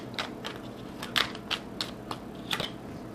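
Tarot cards are shuffled and drawn in a short run of sharp, separate clicks and snaps, close by, spaced irregularly about every third of a second.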